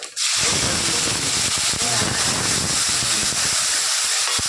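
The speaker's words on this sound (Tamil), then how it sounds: "என்ன நம்ம வெட்டிட்டு இருக்க தக்காளியை உள்ளே போடுறோம்." Chopped tomatoes hitting hot oil for a Tamil sev mixture mutton gravy, a sudden loud, steady sizzling hiss with crackling pops that carries on without pause.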